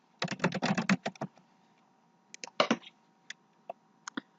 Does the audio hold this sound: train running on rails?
no